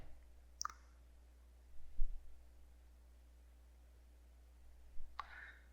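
Two distinct computer mouse clicks, one early and one near the end, crisp and close against a quiet room hum, while navigating a web hosting control panel.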